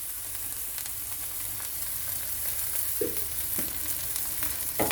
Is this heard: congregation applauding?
no